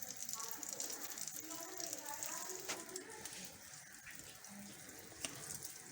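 Spoonfuls of mashed dal batter drop into hot oil and fry with a soft, continuous hiss and bubbling, faint and close, under quiet background.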